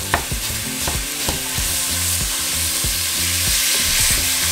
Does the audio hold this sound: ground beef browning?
yes